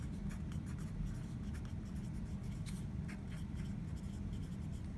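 Writing on a board during a math lesson on exponent rules: a close, continuous run of scratchy strokes and taps over a steady low room hum, with no speech.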